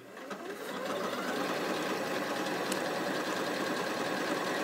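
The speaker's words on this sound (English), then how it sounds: "You'll find with the decorative stitches, the fabric jumps backwards and forwards as the machine's sewing." Elna 720 PRO sewing machine running steadily on decorative stitches, a continuous close whirring hum with a rapid needle rhythm that holds constant for several seconds.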